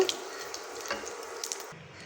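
Black cumin seeds and dried red chilies fry in hot oil as a tempering, giving a steady, close hiss and crackle that runs evenly for about two seconds with no talk.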